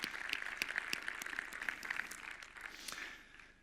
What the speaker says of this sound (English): please give a big applause to the team that has been doing this for several months